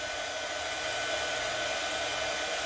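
A hair dryer blows steadily on a Christmas Noel craft sign, a constant even whoosh with no change in pitch, close and fairly quiet, with no voices.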